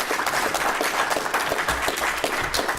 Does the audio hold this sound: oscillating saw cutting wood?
no